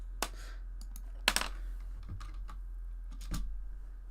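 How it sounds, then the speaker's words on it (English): Sparse, irregular keystrokes on a computer keyboard, a few sharp clicks spaced apart over a steady low electrical hum, with no talking. "I don't want to type it out 4 times."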